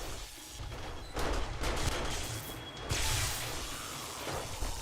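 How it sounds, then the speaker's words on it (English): Automatic shotgun turrets in 7 Days to Die fire repeated loud blasts. The bursts are broad and booming, come in two clusters, and ring out over a steady noisy background. "Ooh, I hear the shotguns go."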